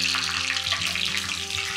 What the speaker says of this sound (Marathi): मस्त अशी चुरचुरीत फोडणी